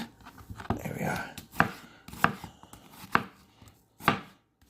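A Kaizen Japanese chef's knife chopping food on a board, several crisp distinct cuts landing at an uneven pace, close and fairly loud, with no voices.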